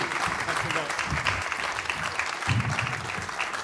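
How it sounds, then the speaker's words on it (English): Audience applause welcoming a speaker to the stage at a public conversation event, a dense, steady wash of clapping lasting throughout, with some voices mixed in beneath it. "can we please give him a very big round of applause?"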